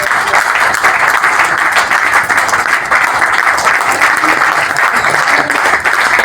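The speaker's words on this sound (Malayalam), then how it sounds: "നിറഞ്ഞൊരു കൈയടി കൊടുക്കാം" Sustained, dense applause from a large crowd, steady and loud throughout with no pauses.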